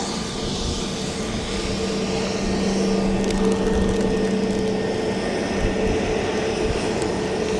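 Airliner at Dublin Airport, a steady loud engine drone with a sustained tonal hum, constant throughout and heard alone.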